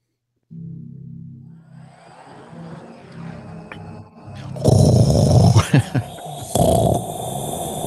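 A recording of a military drone plays with a low droning buzz at first, then gives way to a louder, harsher roar with brief bursts. It sounds close and is fairly loud, and speech may be faint beneath it.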